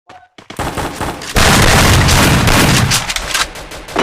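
Game gunfire in an online multiplayer shooter, a few sharp shots up front then a loud sustained burst of rapid fire and booms filling the rest, close and dense.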